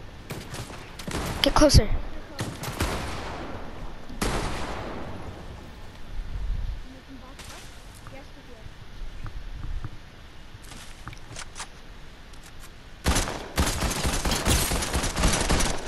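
Rapid bursts of gunfire in a Fortnite match, loud clusters of shots at the start, in the middle and near the end, with quieter gaps between them. A player speaks briefly over the game sounds.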